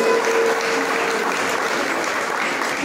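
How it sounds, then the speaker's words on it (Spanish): Festival audience at a Son Huasteco event applauding children of a local music school, loud sustained clapping from a large crowd that stays full and steady throughout. "Que se escuche fuerte los aplausos para despedir a estos niños y a estas niñas de la Escuela de Música"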